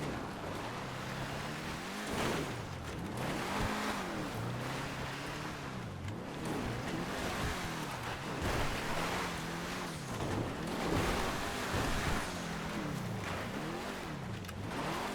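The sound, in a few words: Grotti GT750 sports car driving in video game GTA 5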